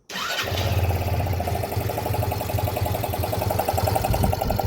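A motorcycle engine with its airbox open cranks and catches, then settles into a loud, throaty, steady idle with a rough pulsing rhythm, close by and without speech.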